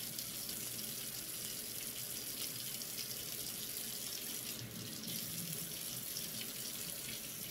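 Tap water runs steadily into a sink while food is rinsed under it, a close, even rushing splash that stays constant throughout, with no talk.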